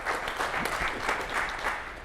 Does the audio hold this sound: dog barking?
no